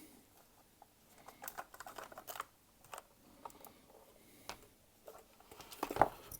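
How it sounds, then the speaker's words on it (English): Keyboard being pulled out of a Micro Palm PC/4000 computer: scattered light plastic clicks, taps and scrapes, with one sharper clack near the end, heard close up with no talking. "Well, I guess I could pull the keyboard out."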